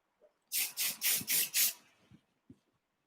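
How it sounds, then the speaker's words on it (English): Spray wax misted onto a braided bridal updo in a series of five quick, close hissing bursts, followed by faint handling sounds. "Keep using your spray wax"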